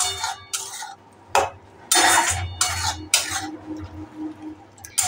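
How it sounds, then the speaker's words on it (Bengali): Salted okra being stirred in a pan: several bursts of a utensil scraping and clattering against the metal with short pauses between, close and fairly loud, over a soft sizzle. "এবার একটু সিমে করে রেখে নাড়াচাড়া করব।"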